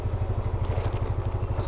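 A motorcycle engine runs nearby with a steady, throbbing low pulse and rattly mechanical clatter, even and continuous.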